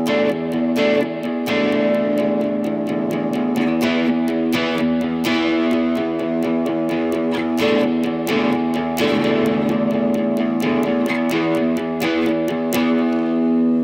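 Electric guitar with distortion strums the two verse chords of a song. The rhythm is steady and driving, with the low E bass note hit on eighth notes, loud and close and with no talking.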